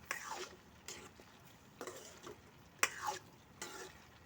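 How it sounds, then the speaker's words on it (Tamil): Young pumpkin pieces being sautéed in a pan for sambar: quiet, intermittent scraping and stirring strokes of a utensil against the pan, with a soft sizzle between the scrapes and no talking. "இப்போ நல்லா ஒரு வாட்டி வதக்கி விட்டுக்கலாம்"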